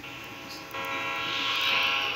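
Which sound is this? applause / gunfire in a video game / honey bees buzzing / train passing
train passing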